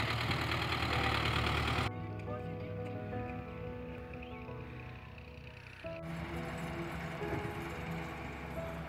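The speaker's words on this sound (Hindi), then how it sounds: "ट्रैक्टर ये जगह अभी बना रहा है" A tractor engine chugs and idles steadily while working ground at a brick kiln, a low rhythmic mechanical drone with shifts in level, under someone talking throughout.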